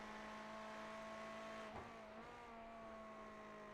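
Ferrari race car engine in the iRacing sim racing game, a steady, loud tonal drone held throughout with a brief shift partway through as the car passes or changes gear.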